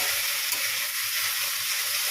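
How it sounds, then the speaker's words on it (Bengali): Potatoes and yardlong beans frying in a pan, a loud steady sizzle of hot oil that holds evenly from start to finish, close up with no voices. "বরবটি আলু ভেজে নিয়েছি ছোটটা ভাজবো ভালো করে লাল লাল করে"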